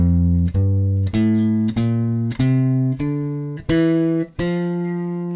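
A bass guitar picks a major scale pattern, eight clean plucked notes stepping upward one at a time at an even pace, each ringing and decaying before the next, close and alone.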